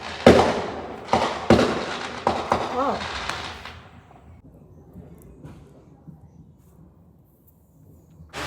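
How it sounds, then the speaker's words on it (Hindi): Firecrackers burst at night in sharp, loud cracks, several in quick succession early on, then fade into faint scattered pops and a low background hum. "तो पटाखों की आवाज़ आई, दिख नहीं रही बट आवाज़ आई"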